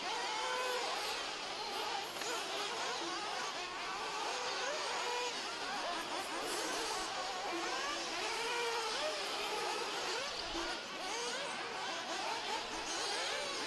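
Several 1:8 scale Sportsman nitro RC buggies race around a dirt track, their tiny engines screaming in a dense, overlapping high-pitched whine that rises and falls at moderate distance.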